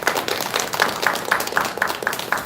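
A church congregation applauding during a live Christmas service, a dense and steady burst of many hands clapping together throughout.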